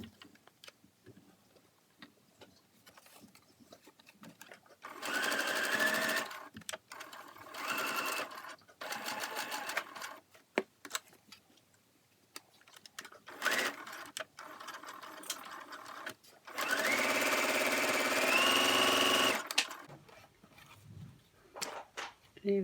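A sewing machine stitches a cloth face mask in several bursts of rapid mechanical whirring, each running a few seconds with quiet pauses and small clicks between them.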